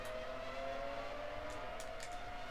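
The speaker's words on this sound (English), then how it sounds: "I can hardly hear my own car." Race car engine in the F1 2005 PS2 video game drones as a steady, muffled high-pitched whine, held at a constant pitch and fairly quiet, with a few faint brief scrapes or hisses near the end.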